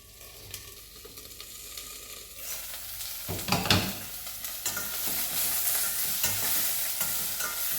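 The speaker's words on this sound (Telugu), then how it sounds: "కొంచెం మూట పెట్టి సిమ్లో పెట్టి కొంచెం కొద్దిసేపు వేయించుకుందాం" Ingredients fry in a pan over a low flame for tomato, raw mango and carom-leaf chutney, a steady broadband sizzle with stirring scrapes and clatter, louder after the midpoint and continuous throughout, with no talk.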